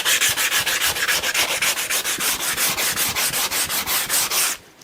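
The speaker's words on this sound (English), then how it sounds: "Now a little hand sanding just to make sure it's all lovely and smooth" Steady rhythmic hand sanding on small wooden offcuts for shot glass holders, quick back-and-forth rasping strokes repeated evenly at close range, stopping abruptly at the end.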